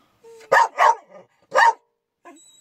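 A dog barks close by in three loud, sharp bursts, two quick ones and then one more after a short pause, followed by a faint low grumble.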